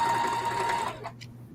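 A sewing machine stitches fabric at a steady fast pace, a close motor whir with a faint high whine, then stops and leaves a short quiet tail.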